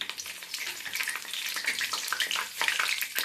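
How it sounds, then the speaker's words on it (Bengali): Dry red chillies, cinnamon, cardamom, cloves and cumin seeds sizzle and crackle in hot oil, a dense, close, continuous frying hiss throughout. "তেলটা আমার গরম হয়ে গেছে। 3টে শুকনো লঙ্কা, দারচিনি, এলাচ, লবঙ্গ, জিরে ফোড়ন দিলাম।"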